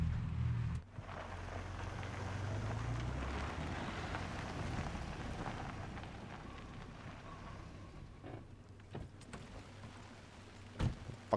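Steady rainfall in the video game Alan Wake 2, a soft, continuous hiss of rain on surfaces with low rumbling beneath and a few faint clicks and knocks, no voices.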